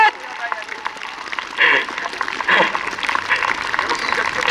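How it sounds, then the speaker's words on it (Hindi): An audience applauds at a yoga workshop in a university hall, clapping rising and swelling in bursts throughout while a voice speaks over it. "Great round of applause"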